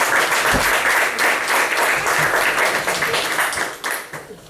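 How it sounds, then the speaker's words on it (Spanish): A church congregation breaks into warm, sustained applause, many hands clapping together in a dense patter that fades out over the last second. "denle un aplauso al Señor por eso"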